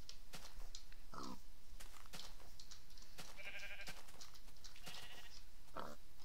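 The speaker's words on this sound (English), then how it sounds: "Little sheep hideout" Sheep bleat several times in a video game, short harmonic cries rising out of steady ambient noise, with footsteps or clicks scattered between them and no talk.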